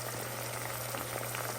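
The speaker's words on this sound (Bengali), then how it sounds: "এখন একটু মশলাটা কষিয়ে দেব।" Coriander, turmeric and chili powder sizzle in a pan for hilsa fish curry, giving a steady, faint hiss and crackle that continues without any talk.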